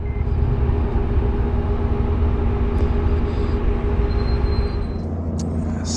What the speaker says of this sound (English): I love the sound of that Jake's brakes coming down the mountain pass right there